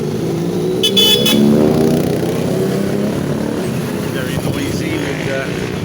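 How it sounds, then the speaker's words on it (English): Busy main-street traffic in Cape Pombo on a windy day, with cars and jeepneys rumbling past continuously at close range, a horn sounding briefly near the start, and gusting wind adding to the steady din. "Cars, jeepneys."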